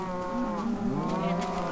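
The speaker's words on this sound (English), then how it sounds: "Yeah, this is the cows." Cows in the video game Minecraft moo in a steady, continuous low drone that lasts throughout, fairly loud and close with no talking over it.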